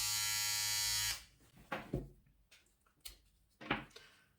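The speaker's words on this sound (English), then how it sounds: "I like that you can use this trimmer when it is on power." Philips Multigroom Series 3000 MG3720 trimmer buzzing loudly and steadily for about a second before switching off, followed by light handling clicks and taps.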